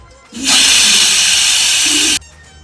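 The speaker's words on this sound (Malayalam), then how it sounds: "ഇനി നമുക്കിത് ആവിയൊക്കെ കളഞ്ഞിട്ടൊന്ന് തുറന്നു നോക്കാം" A pressure cooker of beef releases its steam in one loud, sustained hiss of about two seconds that starts and cuts off abruptly, close by and with no one talking.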